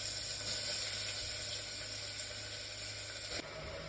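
Onions tossed into a hot pan give a faint, steady hiss of sizzling that carries on evenly, with a small clatter near the end and no voices.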